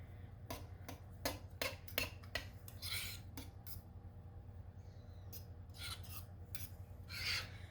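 Herbs and garlic being stirred into spaghetti sauce, heard as a run of quick rasping spoon scrapes and light taps against the pot, close but soft, with a steady low hum underneath.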